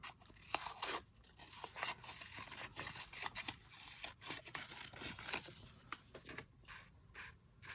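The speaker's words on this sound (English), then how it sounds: "I might cut this one down a little bit." Paper being cut by hand with scissors for an art project, a steady run of close, dry snips and scraping crunches alone.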